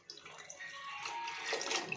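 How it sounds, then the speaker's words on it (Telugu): Tamarind water being poured into a pot for Rayalaseema-style fish curry, a steady close liquid splash and trickle building over about two seconds. "ఈ వాటర్ని చింతపండు రసాన్ని దీంట్లో పోసేసుకోండి"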